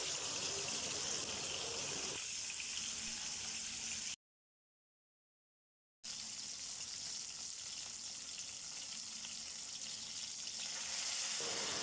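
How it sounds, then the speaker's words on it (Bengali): Rohu fish pieces frying in hot oil in a wok make a continuous, even sizzle and crackle, with one short silent gap partway through. "কড়াইতে তেল দিয়ে গরম করে নিয়েছি তারপর এক এক মাছের পিসগুলো দিয়ে দিচ্ছি"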